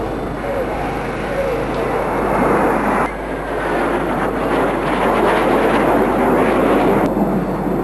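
Steady roar of a Viper jet-engined aircraft passing overhead at a tractor pull, loud and continuous, with the engine's rush swelling and shifting over several seconds.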